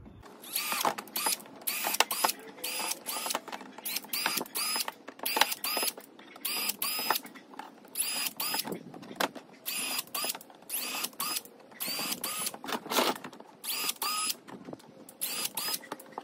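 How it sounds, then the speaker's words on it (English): Rapid bursts of a power drill biting into a plastic turtle tank lid, stopping and starting in short runs with brief pauses between, close and fairly loud. "drill some holes on top so I can zip tie the mesh."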